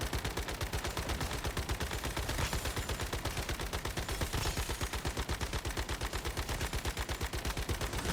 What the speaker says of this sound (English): and start shooting.